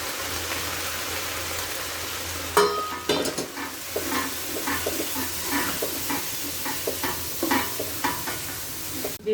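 Chopped onion and lentils frying in a pan for chicken vegetable khichuri, a steady soft sizzle broken by a cluster of stirring scrapes and clatters, then repeated lighter stirs over the continuing fry.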